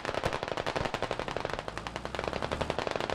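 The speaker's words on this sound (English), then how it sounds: "Shots fired as they move into the building." Rapid automatic gunfire in the tactical shooter game Squad fires as a fast, loud, close burst that runs almost without pause, each shot cracking sharply in quick rhythm.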